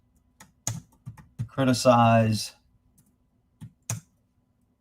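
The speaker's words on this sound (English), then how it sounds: "my typing is really bad" Keystrokes on a computer keyboard, typed in short scattered bursts of clicks between spoken words and a longer stretch of talk, fairly close.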